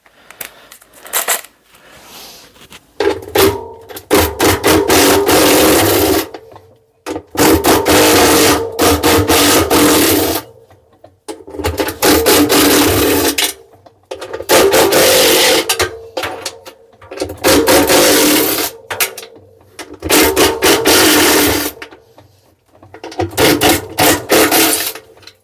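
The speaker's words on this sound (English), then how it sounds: "now let's try the impact wrench again" An impact wrench rattles loose the bolts on an LG washer drum in repeated loud, close hammering bursts of a few seconds each, separated by brief silences.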